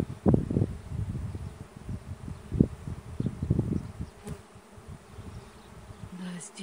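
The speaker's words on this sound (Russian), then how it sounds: "Весь рой идет вроде бы сюда" A secondary swarm of honey bees fills the air with a continuous buzzing drone, punctuated by louder passes of individual bees close by, with some rustling underneath.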